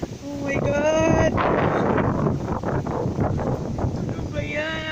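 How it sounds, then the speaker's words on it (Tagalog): A heavy, continuous wind blast in stormy Dubai weather buffets the microphone with a broad rushing roar, while a voice speaks briefly at the start and again near the end. "The wind is so strong."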